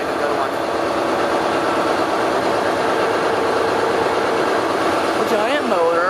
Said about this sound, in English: A giant motor.